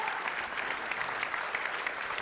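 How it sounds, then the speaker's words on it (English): Steady, dense applause from a standing crowd at a running event, continuous and even throughout, with no gaps. "They're getting a standing ovation"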